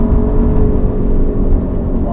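A 2019 Alfa Romeo Giulia Quadrifoglio accelerates hard, its engine giving a loud, close, rumbling roar with a steady throaty drone throughout, heard from inside the car.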